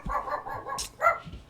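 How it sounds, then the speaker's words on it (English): Dogs barking in short, quick yips and woofs, a rapid run of barks at moderate distance, fairly loud with no talk over it. "The sound of the dogs means it's time to go."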